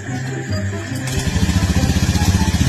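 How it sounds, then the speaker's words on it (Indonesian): A motorcycle engine runs close by, settling into a steady, throbbing low pulse after a second of rougher rumbling, loud and without talk over it. "Motor lagi enak."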